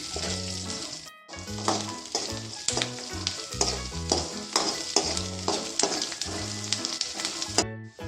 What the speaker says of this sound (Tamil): நான் இப்போ வந்து பூண்டை வந்து நான் அதில் நல்லா வறுத்து எடுத்துக்க போகிறேன்.